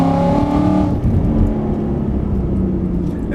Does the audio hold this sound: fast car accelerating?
yes